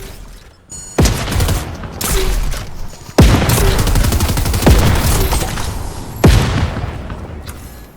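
Fortnite gunfight with explosions, including a sticky grenade launcher; sharp booming blasts and bursts of rapid gunfire repeat every second or two, loud and close, each impact trailing off into rumbling decay.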